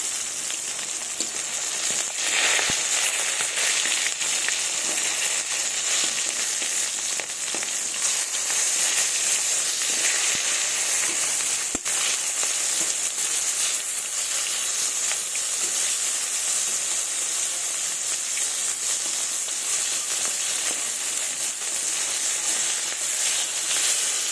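Fish pieces fry in hot oil with a continuous, even hissing sizzle, close and steady throughout, with an occasional faint click or tap.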